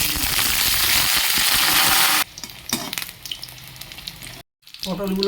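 Loud hissing sizzle of pointed gourd frying in hot oil in a wok, strong for about two seconds, then quieter crackling with a brief silent gap and some clinks.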